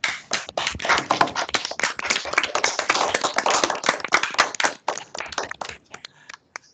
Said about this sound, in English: give all the speakers a big round of applause